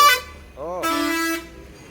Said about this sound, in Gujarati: અરે પણ જોરદાર હોર્ન માર્યો